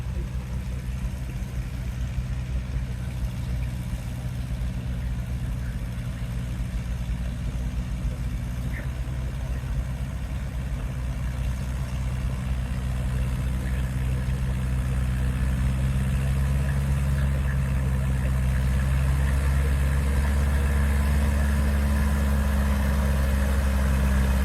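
An antique tractor in the 4,000-pound class runs at a transfer sled pull, its engine a loud, steady, low droning rumble that holds unbroken for the whole stretch.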